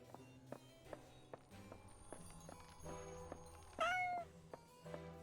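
A cat in the Goblin Cleanup video game lets out one clear meow among regular soft game footsteps and thuds, heard alone at moderate level.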